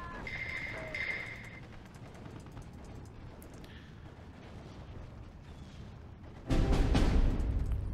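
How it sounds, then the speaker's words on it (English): Mortar rounds land during a Steel Division 2 match, with a steady rumble of distant explosions and battle noise, then a loud, heavy burst of impacts near the end. "Just all mortars."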